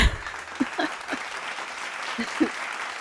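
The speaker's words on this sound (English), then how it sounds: "Insert applause here" Moderate applause rises briefly after a debt payoff announcement, with a few louder claps standing out before it settles into a thin, even patter.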